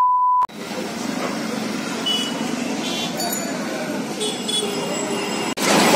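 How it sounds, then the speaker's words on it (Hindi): Kolkata metro train near Tollygunge coming up from underground onto an elevated track, heard as a short beep followed by a continuous rolling rumble and rattle of the cars that carries on until an abrupt cut. "अरे ऊपर चला गया मेट्रो।"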